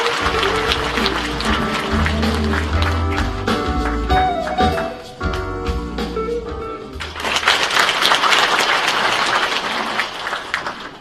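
A large audience applauds at a police veterans' association anniversary ceremony at the Sejong Center, welcoming a speaker to the stage with dense, sustained clapping that swells again toward the end.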